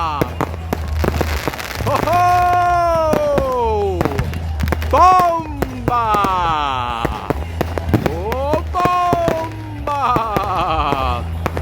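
New Year's Eve fireworks on a beach in Goa burst in loud repeated bangs and crackles, with excited voices shouting and whooping between and over the explosions.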